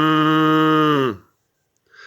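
A woman imitates a cow with one long, loud, sustained moo that slides down in pitch at the end, followed by silence and a faint murmur.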